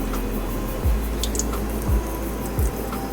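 Cheese balls dropped one at a time into hot oil in a kadhai for deep frying, each giving a soft plop and sizzle, three drops spaced about a second apart over a steady frying hiss.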